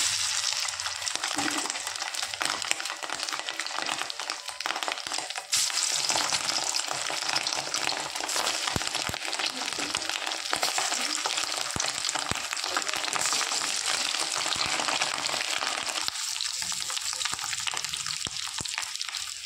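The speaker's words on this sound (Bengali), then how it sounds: "এদিকে তেল ভালো মতো গরম হয়ে গেছে। এক এক করে ডিমগুলো আমি ভেজে নেব।" Fish roe frying piece by piece in hot oil, a loud, steady sizzle and crackle with no speech over it.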